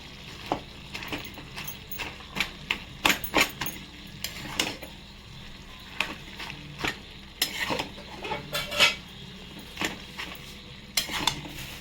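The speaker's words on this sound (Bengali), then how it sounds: "দেখুন বন্ধুরা নাড়া হয়ে গেছে" Steel spoon stirring a pot of mixed vegetable curry with hilsa fish head and small tomatoes, sharp scraping clinks at an irregular rhythm over a soft, steady background hiss.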